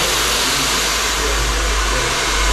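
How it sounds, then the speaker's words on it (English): Blow dryer running continuously at close range in a barbershop in Amman, Jordan, drying a customer's hair after a haircut; a steady, loud whirring roar with no speech. "with the hair, with the blow dryer, it shows that he's gotten every hair"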